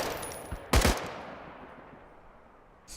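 A single short burst from an AK-74U rifle in the game Contagion, loud and sharp, followed by a long fading tail and quiet room tone.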